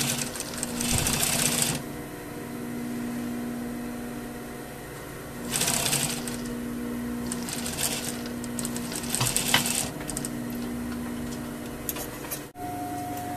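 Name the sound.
sewing machine stitching a seam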